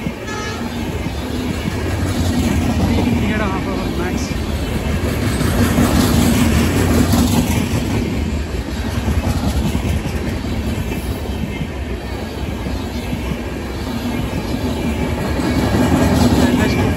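An Indian express passenger train runs on rails in the morning on a route toward Chennai, with a steady loud rumble, rhythmic wheel clatter and faint squeal that swell and ease over about seventeen seconds.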